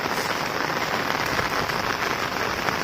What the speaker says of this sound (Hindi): बारिश का पानी।